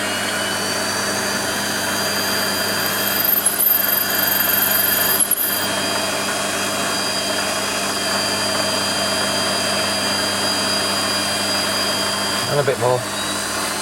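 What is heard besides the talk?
8mm drill boring through a part on a Warco lathe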